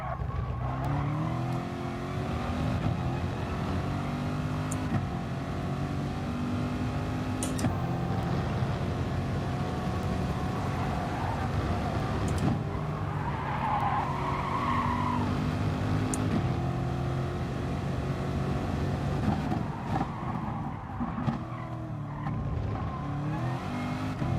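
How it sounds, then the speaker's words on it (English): A McLaren race car in the GT Sport video game drives continuously, its engine droning and revving steadily throughout, with brief tire squeals and skids as it corners. "the McLaren is super hard to drive"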